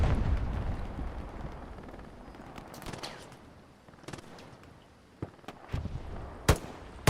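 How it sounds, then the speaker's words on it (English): Rockets roar overhead on a World War II battlefield in Hell Let Loose at Carentan Causeway, a heavy rumbling barrage fading out, followed by scattered sharp distant gunfire cracks. "Rockets rolls on overhead."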